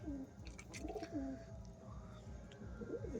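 Pigeons coo back and forth in a steady, low, rolling call, a pair perched side by side, with soft ambient noise and faint chirps in the background.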